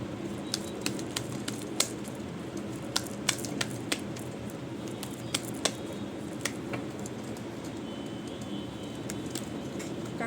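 Tarot cards shuffled and drawn by hand, giving a run of soft, crisp card flicks and snaps at an irregular rhythm over a low, steady room hum, close and fairly quiet, with no talking.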